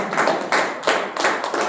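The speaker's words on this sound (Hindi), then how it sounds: "सभी ज्ञानियों के लिए जोरदार तालियां बजाइए" An audience at a spiritual lecture claps in several bursts, close and steady, with rhythmic surges in the applause.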